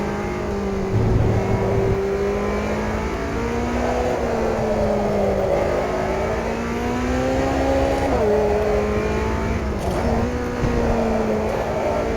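A car engine runs at full throttle, loud and close, its note climbing and falling through several swells and brief gear shifts as it drives hard with no talking over it.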